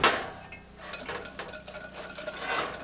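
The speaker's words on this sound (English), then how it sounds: "to whisk it up" A whisk scrapes and clinks against a pan while turkey croquette mixture thickens on the stove, giving a run of quick, close metallic taps and soft scraping strokes with no talking.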